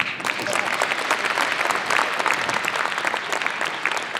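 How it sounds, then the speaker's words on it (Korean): An audience at a book launch event in Korea claps loudly and evenly for a few seconds, a dense, close wash of applause with no talking over it. "박수 부탁합니다."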